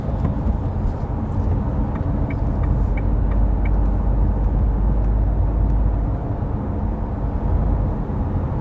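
A Dacia Duster Prestige with the TCe 100 petrol engine drives along a road and picks up speed toward 80 km/h, giving a steady, loud cabin drone of engine and tyre noise throughout.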